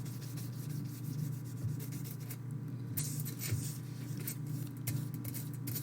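Steady, continuous rubbing on paper at close range, a soft scratchy friction with rhythmic strokes and a faint background hum.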